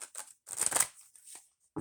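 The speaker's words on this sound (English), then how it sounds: "I'm just shuffling the cards" Tarot cards shuffle in a few quick riffling bursts, close and crisp, with short pauses between them and no talking.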